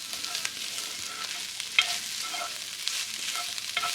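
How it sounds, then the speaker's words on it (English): Garlic, bay leaves, dried oregano and chili flakes stirred in a hot pot give a steady close sizzle, with light scraping strokes and small pops throughout. "And just stir that until you can really smell the garlic"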